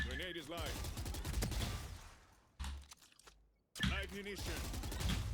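Rapid gunfire in the Valorant video game, bursts of close, loud shots broken by a short pause, under a voice talking.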